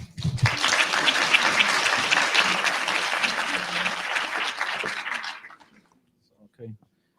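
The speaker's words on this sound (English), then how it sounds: "Big round of applause." A summit audience on teaching and student mobility gives a full round of applause: dense, even clapping that swells quickly, holds for about five seconds, then fades away, followed by near silence and a brief faint sound.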